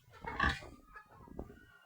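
Pigs grunting in a farm pen, a loud burst of snorting grunts followed by a quieter grunt, with faint background noise.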